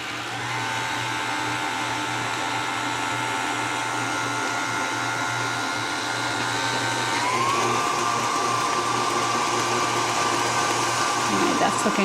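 An electric mixer whirs steadily through creamy cake filling, a loud continuous motor drone that shifts slightly in pitch partway through and keeps going without pause.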